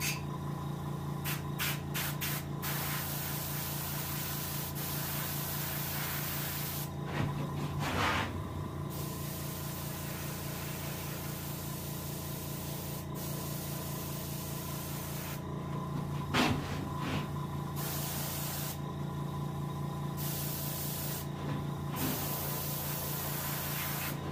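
Steady hissing spray paint runs continuously at a moderate level while painting a hybrid striped bass taxidermy mount, with a few brief pauses and louder bursts, and no voices.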